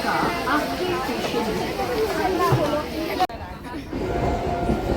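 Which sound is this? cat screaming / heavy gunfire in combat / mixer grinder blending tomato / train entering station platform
train entering station platform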